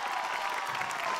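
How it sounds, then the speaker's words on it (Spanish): Studio audience applause for a participant on a live Peruvian TV cooking show, a dense, steady patter of many clapping hands over a short stretch. "¡Aplausos para él!"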